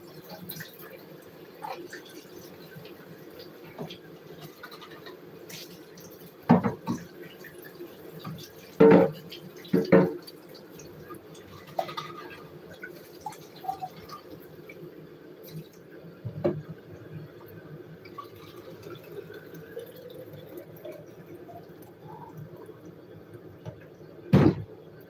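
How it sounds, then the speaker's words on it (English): Filtered tap water runs into a water bottle, a low steady flow broken by intermittent clunks and knocks of the bottle against the tap, with no talking. "I'm gonna put water in it."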